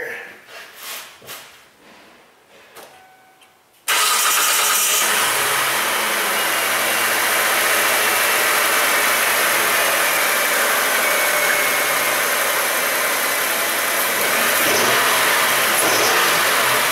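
A Kia Sedona 3.5 engine with a misfire fires up after a few seconds of quiet handling noise. It then runs loud and steady, a close, rough drone that fills the rest of the clip.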